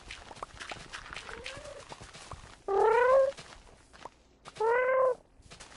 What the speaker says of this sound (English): I love the sound of Minecraft cats.